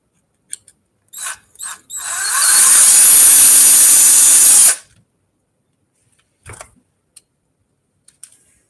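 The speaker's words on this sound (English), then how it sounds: "I'm going to take these screws out just to see if there's anything under them." Power drill backing screws out of a seized sport bicycle drivetrain part, a few short bursts followed by one sustained whine of about three seconds, close and loud, then faint clicks and handling noises.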